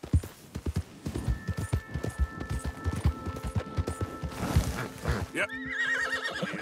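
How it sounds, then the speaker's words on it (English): A horse in the video game Red Dead Redemption 2 clip-clops at a gallop with rhythmic hoofbeats, then lets out a loud neigh near the end, with a voice over the hooves. "Vamos, caballito, arre."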